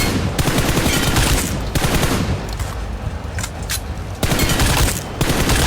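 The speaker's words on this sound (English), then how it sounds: "Somebody shooting you from behind." Gunfire in the mobile game PUBG Mobile, with rapid automatic bursts of shots crackling continuously and loudly for several seconds, some sharper reports standing out, with no talk.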